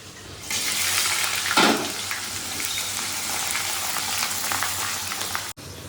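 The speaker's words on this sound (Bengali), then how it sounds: "পেঁয়াজটা ফোড়ন দিয়ে দিয়েছি সব রকমের যা যা প্রমাণ লাগে আর এবার পেঁয়াজটা ভাজা যাবো" Onion frying in a pan with spices, a steady broadband sizzle close up that holds evenly for several seconds, with one brief louder burst early on.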